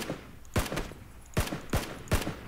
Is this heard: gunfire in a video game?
yes